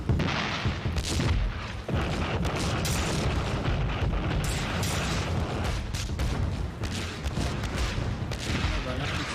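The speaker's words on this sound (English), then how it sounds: "The artillery started falling on Hushnia." Artillery shells falling and exploding during a battle on the Golan Heights: dense, continuous rumbling booms and blasts overlap, loud and heavy, with talk faintly mixed in.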